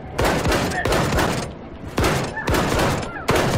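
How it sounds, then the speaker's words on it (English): Shotgun blasts in the video game Wolfenstein II, four loud, heavy booming shots about half a second to a second apart, each with a short decaying tail. "So how many long-range shotgun shots do you want?"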